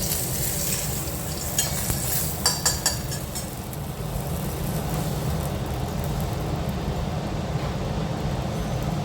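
Cinnamon and cardamom sizzling in hot oil in a kadai for egg curry, a loud steady frying hiss with a few sharp clinks of a spoon early on.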